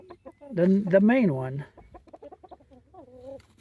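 Chickens in a backyard run cluck and squawk close by, with one loud drawn-out call followed by softer clucks and a person speaking briefly.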